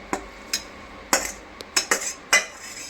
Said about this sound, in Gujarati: હવે એને આપણે ભાતમાં મિક્સ કરવાની છે આપણે ભાતમાં મિક્સ કરી દઈશું